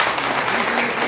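Audience at a community association gathering in a hall applauding a professor, a brief burst of dense clapping with a voice faintly beneath it.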